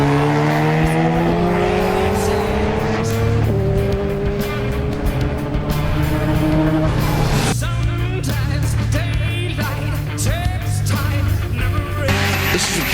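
A twin-turbo 13B drag race car launches hard off the line at an import drag event. The engine roars loud and close with rising revs and tire noise, and it stays intense throughout.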